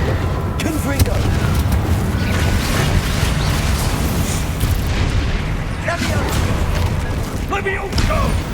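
Confringo fire blast spell in Hogwarts Legacy, heavy booming bursts buried in loud, dense, continuous combat noise with voices mixed in.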